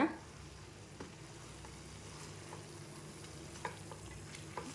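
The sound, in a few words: mint leaves sautéing and stirring in a pan for chutney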